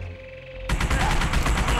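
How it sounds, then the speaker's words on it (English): Sudden rapid automatic fire from the PS2 game The Punisher breaks in after a quiet moment and continues as a dense, steady volley. "I hear gunfire!"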